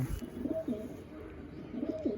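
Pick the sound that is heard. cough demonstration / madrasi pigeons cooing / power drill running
madrasi pigeons cooing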